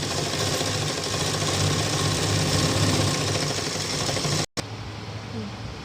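A sewing machine stitches a blouse with a loud, continuous rapid chatter that cuts out briefly, then resumes a little quieter.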